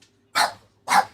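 Two sharp, loud dog barks close by, evenly spaced about half a second apart, with silence between them and no talking.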